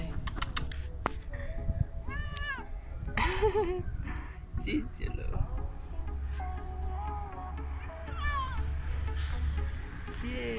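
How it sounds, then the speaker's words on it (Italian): Kitten meowing repeatedly in short, high, wavering cries spread across the scene, mixed with keyboard typing and people talking nearby. "Gattino, è bellissimo. Fa dei suoni strani."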